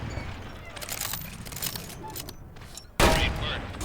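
K98 bolt-action rifle in the Medal of Honor VR game, with a burst of shots under background game noise and then one sharp, loud report near the end.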